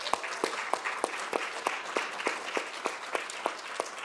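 Audience applause for event sponsors at a civic gathering, a steady spread of clapping with distinct sharp claps standing out in a fairly regular beat, moderately quiet and without talk.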